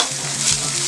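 Garlic and ginger sautéing in a pan of oil, a brief close sizzle with faint stirring scrapes, no voices.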